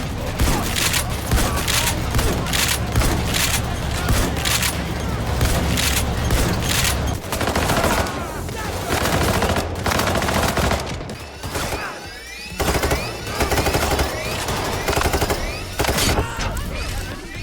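Heavy gunfire from Payday 3, including shotgun blasts, rattles on almost without a break, loud sustained fusillades and booms with a short lull near the middle, while someone talks over the shooting.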